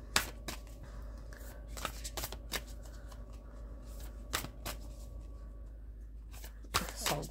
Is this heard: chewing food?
no